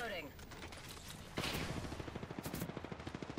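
Quiet bursts of Apex Legends gunfire crackle in the distance, then a sharper volley hits and gives way to a rapid, evenly spaced rattle of shots.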